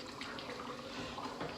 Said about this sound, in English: I'm here stirring my pot. You see it's bubbling.